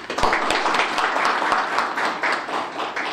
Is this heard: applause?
yes